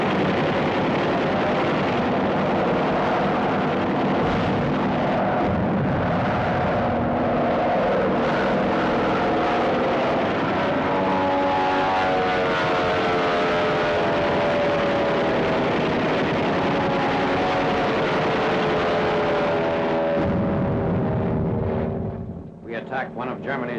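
A German Messerschmitt ME-163 rocket plane in flight in 1945 combat newsreel footage, a loud roaring engine drone with rising and falling tones, swelling and then cutting off near the end, with narration over it.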